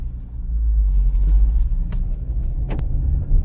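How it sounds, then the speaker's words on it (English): Cars in city street traffic in Brazil rumble past around corners, a loud continuous low engine and road roar with occasional brief swishes, no talking. "these cars, they just whip around these corners"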